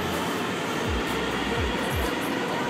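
A ride aboard a train on a new metro line gives a steady loud hiss of rolling noise with a few low thumps and faint squeals from the wheels.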